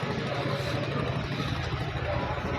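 A generator engine with an abnormal internal noise runs steadily nearby, a rough, continuous mechanical drone with a gritty low rumble and no breaks, while someone speaks over it.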